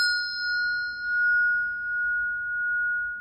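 A single struck bell rings out with a clear, sustained metallic tone that decays slowly over several seconds, alone and close.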